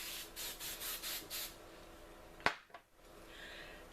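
Several short bursts of hairspray sprayed onto curled hair, close and moderately loud in a quick rhythm, followed by a sharp knock and soft rustling.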